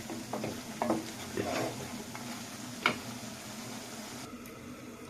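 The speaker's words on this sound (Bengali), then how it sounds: "এগুলো ভালো করে কষাতে থাকবো" A spiced masala with salt is stir-fried in a pan, giving a steady close sizzle with intermittent scrapes and clicks of the spatula against the pan, no talking.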